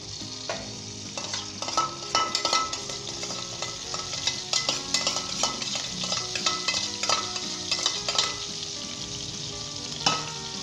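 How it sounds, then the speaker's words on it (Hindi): Chopped ginger and green chillies frying in hot oil, a continuous close sizzle broken by repeated scraping and clinking of a spoon stirring the pan, with no talk. "और दोस्तों से 1 से 2 मिनट तक हम फ्राई करेंगे सब्ज़ मिर्चों को और अदरक को"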